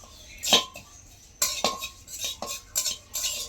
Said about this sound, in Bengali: কড়াইতে এই তিলগুলো হালকাভাবে ভেজে নেব, যাতে কোনোভাবে পুড়ে না যায়।